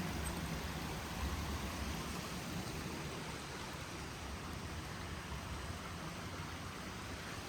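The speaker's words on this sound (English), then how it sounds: "Let's take a look at the creek here." A creek flowing beside a winter trail on the way to Lake 22 off the Mountain Loop Highway, heard as a steady, even rush of water that stays constant throughout, with no voices over it.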